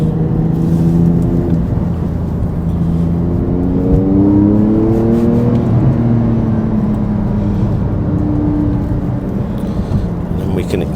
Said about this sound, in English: sports exhaust was nice sound